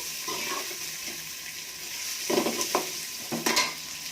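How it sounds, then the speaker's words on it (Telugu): Onions and other ingredients stirred in a hot pan for burugulu uggani, with soft frying sizzle underneath and a few short scraping bursts from the spoon, close and fairly quiet. "ఆనియన్స్, అన్నీ వేసి ఒకసారి బాగా కలిపేసి"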